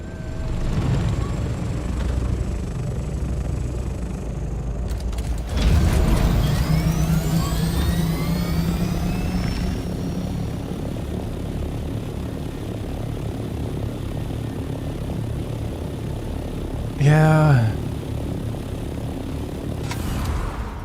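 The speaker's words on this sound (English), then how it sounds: "Helicopter with 2 big pusher propellers." Aircraft with two big pusher propellers in the game Dune: Awakening, a droning engine hum that surges loudly as it passes close, with sweeping rotor tones and a brief louder whine near the end.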